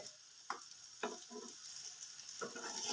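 Potato cutlets fry gently on a low flame in a pan, with a soft steady sizzle and a few sharp scraping clicks as a spatula turns them, no talking.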